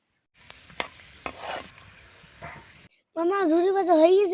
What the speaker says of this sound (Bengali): ঝুরি ভাজা তেলে এবার বাদাম গুলা ভেজে নিয়েছি।